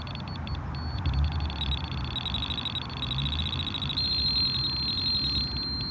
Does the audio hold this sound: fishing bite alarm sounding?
yes